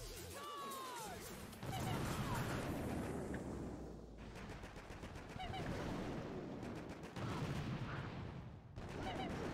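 Repeated explosions and gunfire boom through a Boom Beach attack, with dense crashing blasts in several loud bursts over the full stretch and brief quieter gaps between them.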